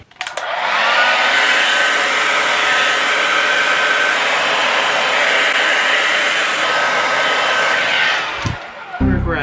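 A hair dryer blowing acrylic pour paint across a Christmas ornament roars loud and steady from start to end, then cuts off with a brief clatter.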